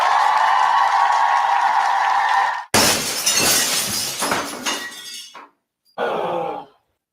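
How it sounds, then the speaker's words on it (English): Glass shatters in a loud crash after a steady broadband rush, followed by scattered tinkling fragments and a final brief burst of breaking glass, evoking a car windshield or window smashed. "When the thrill of playing ball turns into the agony of a broken windshield or car window"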